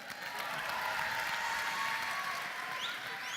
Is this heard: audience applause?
yes